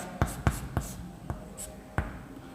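Chalk or marker strokes on a board during a math lecture, five or six sharp taps and scrapes in an uneven rhythm, close and clear with no talking.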